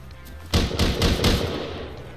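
Gunfire from the video game Rust: a short volley of about four heavy, close shots, each booming and trailing into a rumbling echo.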